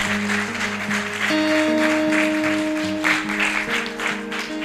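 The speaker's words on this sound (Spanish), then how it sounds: "Dale un fuerte aplauso a Jesucristo en esta noche." A church congregation claps together during an evening service, a full, sustained round of applause with held instrumental tones sounding beneath it.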